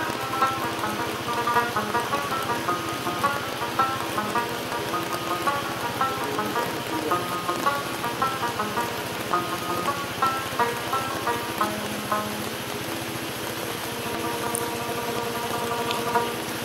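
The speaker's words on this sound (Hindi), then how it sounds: "बारिश में हल्की हल्की बर्फ जो आ रही है," Steady rain mixed with light snow falling in Ushu Forest near Kalam, a continuous dense patter of drops on surfaces with no voices.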